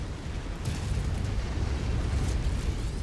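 A mech blows apart in MechWarrior 5: Mercenaries, a dense continuous roaring explosion with deep rumble filling the whole moment, loud and close.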